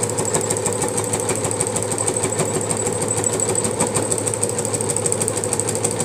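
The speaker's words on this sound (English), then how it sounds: "Now we're going to continue to sew it down" A sewing machine stitches down a black and white log cabin quilt block, running in a steady, continuous mechanical whir with a fast rhythmic patter, close and alone without talk.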